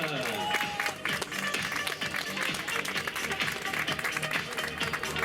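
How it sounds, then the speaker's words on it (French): Crowd clapping at a 10 km road race prize ceremony, sharp and energetic, with a voice talking over it throughout. "Toujours de l'explosivité dans ces applaudissements."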